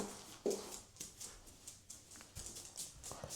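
A pet dog named Tina, excited before a morning walk, makes soft whimpers among scrabbling taps and clicks. The bursts are close and fairly quiet, with no talking.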